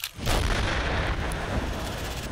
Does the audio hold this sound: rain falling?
no